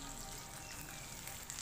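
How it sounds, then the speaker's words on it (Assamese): Turmeric- and salt-rubbed fish pieces fry in hot oil, giving a steady, soft sizzle at close range with no voices. "মাছ কেইপিচ ইলুটি হিলুটি কৰি দুইটা পিঠি সোণোৱালী ৰং হোৱালৈকে ভাজি ল'ব লাগিব"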